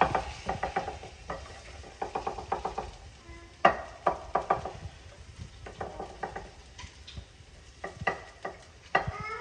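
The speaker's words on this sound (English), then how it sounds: "I'm gonna start breaking up these onions now." Onions broken apart into rings in a hot pan beside beer brats, with soft crackling sizzle and scattered sharp clicks and scrapes of a utensil, fairly quiet and close.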